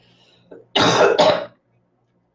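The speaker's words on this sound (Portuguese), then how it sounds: "estava com acesso de tosse" A short burst of harsh coughing, two or three loud, raspy coughs close to the microphone after a faint throat noise, then silence.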